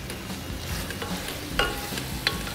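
Vegetables for a vegetable biryani are stirred and sautéed in a pot with turmeric, chili powder and salt, giving a soft steady sizzle with a couple of sharper scraping clinks from the spoon, close and alone.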